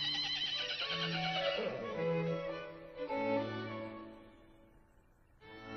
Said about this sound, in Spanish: Aquí está el caballo.